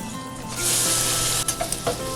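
Scallops sear in a hot buttered pan with a loud, steady sizzle that swells after the first half second, punctuated near the end by a few brief clinks and spatters.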